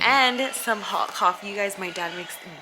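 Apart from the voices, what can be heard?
None of the usual background noises is heard.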